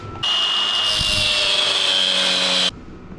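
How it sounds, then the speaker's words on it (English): A power tool scores a thick piece of steel for a custom steering part, a loud steady grinding hiss running for about two and a half seconds alone, then stopping abruptly. "What I'm gonna do to bend this, because it's a pretty thick piece of steel, is I'm gonna score it."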